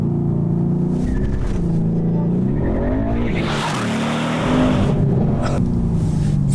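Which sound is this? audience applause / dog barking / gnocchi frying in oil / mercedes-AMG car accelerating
mercedes-AMG car accelerating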